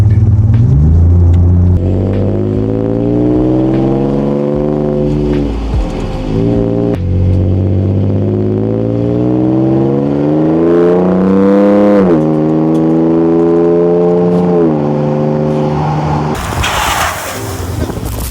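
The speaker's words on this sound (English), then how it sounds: "that V6 engine, the way it sounds, the way it feels like" Ford Ranger Raptor pickup with a V6 engine revving loudly and close, its pitch rising and falling through several long sweeps before a burst of louder noise at the end.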